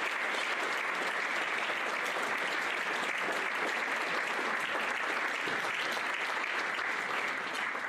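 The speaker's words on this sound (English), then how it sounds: "let's give one more round of applause for the doctor." Steady, full applause from a large audience at a Christmas concert, a dense continuous wash of clapping that holds at an even loudness throughout.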